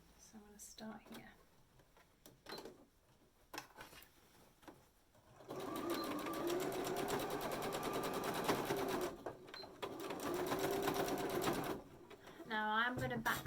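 Sewing machine stitching the straps of a fabric gift bag, a fast steady mechanical whir running in long bursts with pauses between, and a voice talking briefly during the quiet gaps.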